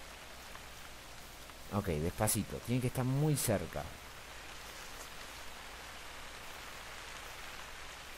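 Steady rain patters outdoors during a hunt as a soft, constant hiss, with a short stretch of quiet Spanish speech in the middle.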